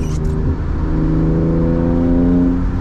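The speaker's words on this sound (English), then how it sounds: "That's a perfect fourth to third rev match." A manual BMW E36 328i engine revs during a fourth-to-third downshift rev match on a rainy morning, a loud close in-cabin drone with a rising pitch that holds steadily throughout.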